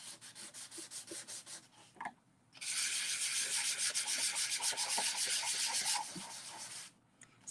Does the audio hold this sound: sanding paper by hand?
yes